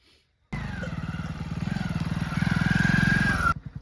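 A motorcycle arrives close by, its engine putting out a fast, steady, throbbing rhythm that grows louder and slightly higher as it approaches, then cuts off abruptly.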